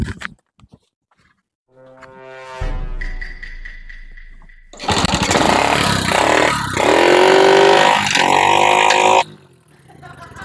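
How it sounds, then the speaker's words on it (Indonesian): A motorcycle engine starts and runs loudly and close, a sputtering start followed by a steady rough roar that holds for several seconds before stopping. "Eta motor hirup Kang cenah beak bensin."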